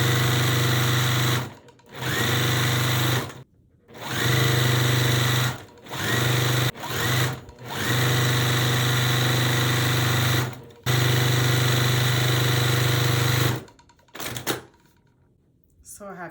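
A sewing machine hums through several long runs of stitching as quilt block pieces are joined, stopping briefly between seams, loud and close with a steady motor whine.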